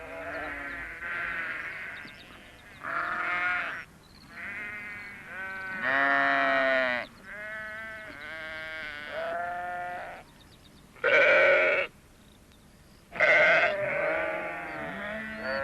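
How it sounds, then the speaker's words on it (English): Sheep bleat repeatedly, several loud, wavering calls in a row with short pauses between them, close by and with no talking. "he saw the sheep in the garden and decided to help."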